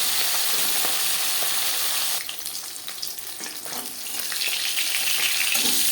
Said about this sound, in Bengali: মাছ একটা সাইড ভাজা হয়ে গেলে